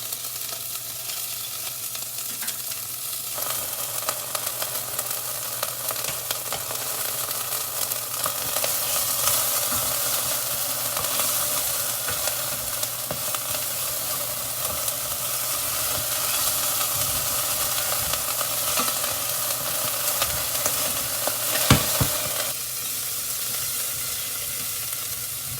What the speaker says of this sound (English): You're gonna add your tomato sauce and your basically chili garlic. You wanna add this for about 30 seconds to nicely get it burnt.